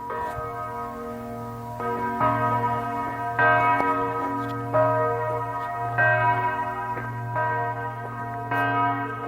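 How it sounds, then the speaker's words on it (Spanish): Church bell pealing at the Dachau concentration camp memorial in Bavaria, its steady, resonant strikes ringing out in repeated overlapping waves with a sustained hum beneath, clear and moderately loud throughout. "Así suena una campana repicando desde el campo de concentración de Dachau"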